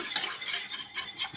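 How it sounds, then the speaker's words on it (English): A slurry whisked into a sauce in a pan: quick, close metallic whisk strokes ticking against the pan in a brisk rhythm, with no voices. "Get the whisk. Let that whisk in."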